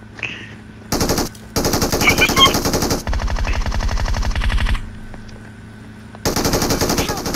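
Gunfire in the PUBG video game, several loud bursts of rapid automatic fire, one stretch with a deep rattling machine-gun chatter, close and sharp with short pauses between volleys.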